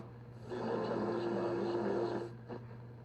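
CHU, the Canadian time signal station, received on a Sony TFM-8000W radio: a steady pulse of tone rises out of a low, humming static background, holds for about two seconds, then drops away, followed by a short click.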